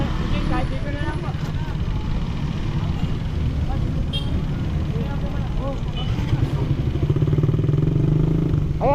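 A motorcycle engine idles and revs close by at the entrance to a nature park, a steady rumble with clattering under continuous conversation.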